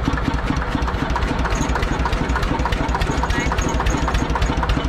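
A turbocharged farm tractor engine runs steadily close by, a dense, loud, continuous mechanical roar with a fast knocking pulse throughout and no pauses.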